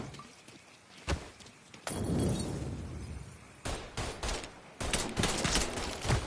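Gunfire in the video game Mafia 3, with scattered sharp shots and bursts of rapid fire, some with a glassy, shattering crack, spread across the clip at close range.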